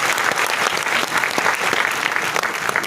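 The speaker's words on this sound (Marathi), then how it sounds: "आपण एकदा जोरात टाळ्या वाजवूया" Audience applause for a veteran music composer during a Marathi stage interview, a dense continuous clapping that stays loud and steady throughout with no speech over it.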